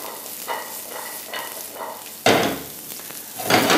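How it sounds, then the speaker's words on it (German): Diced pumpkin sizzles in a pan with a little olive oil, crackling steadily and swelling louder as the pieces are stirred and shifted. "Nun nehmen wir unseren gewürfelten Kürbis zuerst in die Pfanne, die wir ganz bisschen mit Olivenöl versetzt haben"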